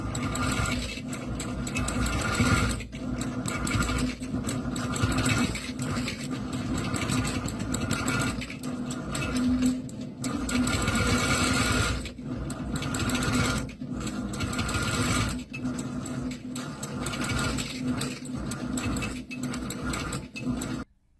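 A Statler quilting machine stitches in the ditch around appliques, a fast, steady mechanical chatter of needle strokes running in long bursts broken by brief pauses, close and alone.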